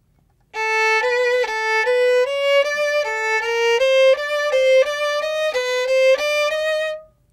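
A solo violin plays a fast, even run of bowed notes in a repeating fingering pattern that climbs and falls. It is clear, close and continuous, with no talking.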